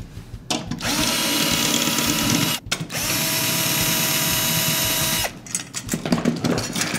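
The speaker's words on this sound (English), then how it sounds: "We're going to use the Evans drill bit key." A power drill fitted with an Evans drill bit key loosens the tension rods on a snare drum head in two sustained whirring runs, each separated by brief pauses and followed by light clicks and handling noises.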